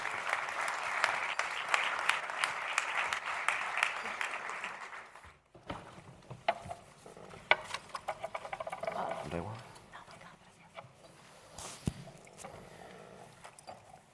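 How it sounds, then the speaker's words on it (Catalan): Audience at an industry congress giving a round of applause for panel members, a dense burst of clapping for about five seconds that fades, followed by quieter rustling, thumps and scattered handling noise. "Un aplaudiment per tots ells."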